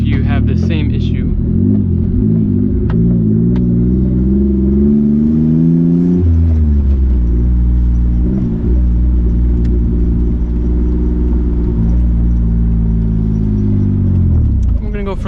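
Mitsubishi Eclipse GTS with a bad manual transmission driving, its engine droning steadily with a loud low rumble, pitch shifting and settling as it pulls through gears, heard from inside the car.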